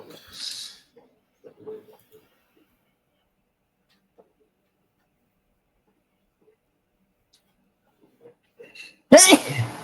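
After a mostly quiet stretch with a few faint soft noises, a single loud, sharp sneeze bursts out close by at the very end.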